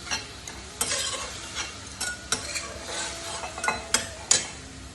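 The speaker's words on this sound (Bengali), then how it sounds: "মাছটা খুব বেশি ভাজবো না, অল্প একটু সাঁতলে নিয়েই নামিয়ে নেব।" Prawns fry in oil in a pan with a soft steady sizzle, broken by sharp clinks and scrapes of a spatula against the metal at an uneven pace, close and fairly quiet, with no talking.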